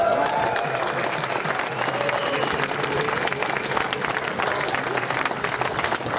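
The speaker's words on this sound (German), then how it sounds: "Applaus" Continuous crowd applause at an outdoor street demonstration in Berlin, a broad steady wash of many hands clapping, with some crowd noise and faint voices beneath.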